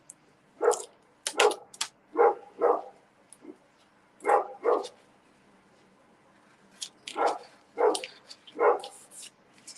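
A dog barks repeatedly in two clusters of sharp, mid-distance barks separated by a short pause, with no other sounds around them.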